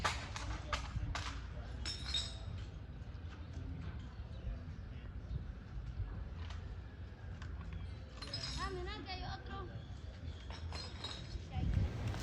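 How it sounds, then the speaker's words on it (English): Broken glass clinks and rattles as it is picked up during a litter cleanup at a kids' park, small scattered chinks over steady outdoor background with voices talking. "Lots and lots of broken glass."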